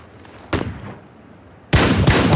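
Gunfire in a multiplayer shooter game, a sharp shot with a short echoing tail followed by a louder, sustained burst of rapid automatic fire close by.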